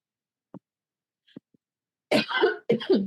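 A few faint clicks and throat sounds, then two loud, close coughs in quick succession, each a harsh rasping burst.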